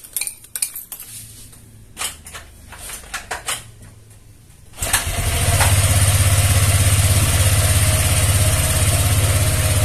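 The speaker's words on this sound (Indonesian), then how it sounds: "motor ini hidup tanpa aki" A Honda Vario 125/150 scooter running without a battery: light metallic tapping and clinks give way to the engine starting about halfway, then a steady, loud, close idle.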